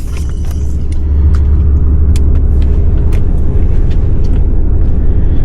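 A tow truck pulling into a parking lot, its engine a heavy, steady rumble close by, with faint clicks and rattles over the low drone.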